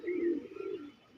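A single pigeon coos softly at close range, one low throaty rolling call lasting about a second and heard alone.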